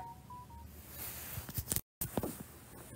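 A telephone emits a short series of dialing beeps at the start, followed by faint rustling and clicks with a brief silent gap, quiet and nearby.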